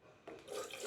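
Tap water briefly runs and splashes into a sink while shaving cream is being prepared, faint and short with no talking.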